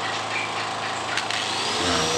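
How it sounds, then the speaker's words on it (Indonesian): A generator-powered angle grinder runs steadily under test, a continuous loud whirring motor whine with an engine drone beneath, holding level throughout with no talk. "Mesin sudah bagus dan kita tes gerinda."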